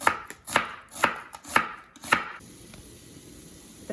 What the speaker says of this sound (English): Next, I'm gonna cut this, slice this onions.